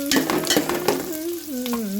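Onions frying in a pan, with a close, crackling sizzle broken by sharp stirring clatters and a steady tonal hum running underneath throughout.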